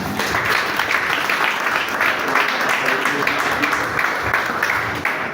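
A church congregation applauding, steady, dense clapping from many hands that fills the room and holds throughout.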